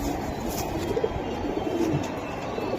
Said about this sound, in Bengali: আরেকটি জোড়া কবুতর আমি দেখাই দিলাম ভাইয়ের